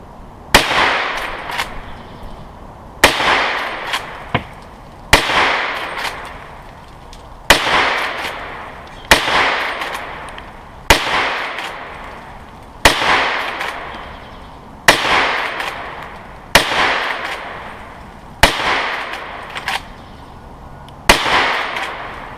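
Eleven loud, sharp rifle shots ring out from a Henry Big Boy lever-action chambered in .327 Federal Magnum, fired one at a time about two seconds apart, each crack close by and followed by a short fading echo.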